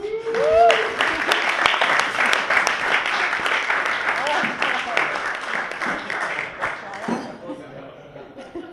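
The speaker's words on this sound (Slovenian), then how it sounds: "najprej en velik aplavz za nas organizatorje" A crowd applauds the organizers at a Slovenian startup talk on Kickstarter success, with dense, lively clapping mixed with chuckles and a few voices, sustained for several seconds before tapering off.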